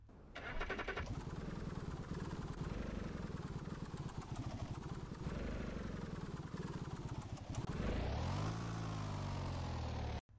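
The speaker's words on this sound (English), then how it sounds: "it has custom engine sounds, so let's hear them here" A custom engine in a small rear-engine car, part of a BeamNG.Drive game mod, cranks and starts, then revs in repeated rising and falling surges before a long climbing rev that cuts off abruptly. The engine is loud and constant throughout, with no talk.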